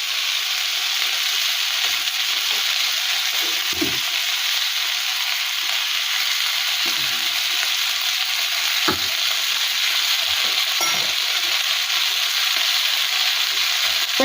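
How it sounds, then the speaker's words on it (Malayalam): Para fish sizzles and crackles in hot oil in a pan, a steady close frying hiss with a few sharper pops and spatters scattered throughout. "നമ്മൾ മീൻ തിരിച്ചിട്ടിട്ടുണ്ട്. അപ്പം മറുവശവും കൂടെ ഒന്ന് വേവട്ടെ."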